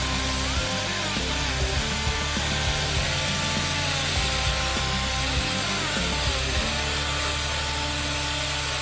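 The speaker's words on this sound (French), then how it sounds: "de poncer avec la disqueuse plutôt que la ponceuse" An angle grinder whines continuously against wood, a harsh, loud abrasive grinding with pitch shifting slightly as pressure changes.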